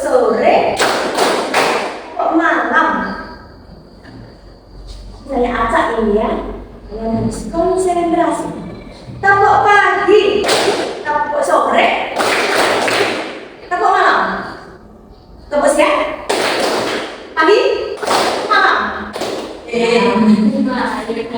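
A group of children claps hands in a call-and-response clapping game in a classroom, short bursts of claps arriving in rhythmic sets between an adult's spoken prompts.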